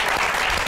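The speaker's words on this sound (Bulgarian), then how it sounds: "Аплодисменти за Лили!" Applause from an audience at a Bulgarian television comedy show, a brief dense burst of clapping that fills the whole moment with no voices on top.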